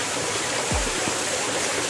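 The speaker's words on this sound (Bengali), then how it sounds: "এই যে ঝর্ণার জল কম এখন" Small waterfall stream at Dahari Khal in Purulia running low in the dry season, a steady broadband rush of flowing water heard alone and fairly close throughout.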